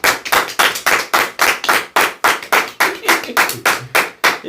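A church congregation claps for the Lord in a strong, regular rhythm, each beat sharp and loud, with several hands roughly in unison and no talking over it.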